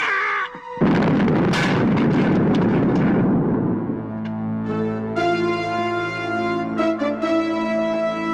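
A grenade goes off in a movie scene with a loud, sudden blast and a rumbling debris roar that dies away over several seconds. Sustained musical tones then rise and linger.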